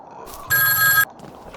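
A single short burst of an electronic telephone ringing from a phone booth in the video game Huntsman: The Orphanage, loud and close, about half a second long against a quiet background.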